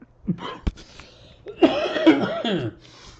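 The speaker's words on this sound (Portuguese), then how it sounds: "Oh, meu Deus, que tosse, hein?" A few sharp, harsh coughs close by, the first short burst followed by a longer, rougher fit of coughing with throaty rasp.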